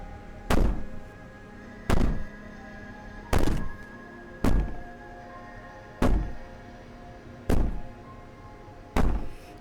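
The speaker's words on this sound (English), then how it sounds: "Maybe the banging and wailing will stop if you just don't pay attention to it." Heavy banging on a door in a video game: seven loud, evenly spaced thuds about a second and a half apart, each a sharp booming impact over a low steady ambient hum.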